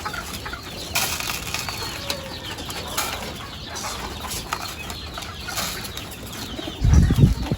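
Racing pigeons at a loft on Boracay give soft coos and rustling wing flaps, with a louder burst of flapping near the end.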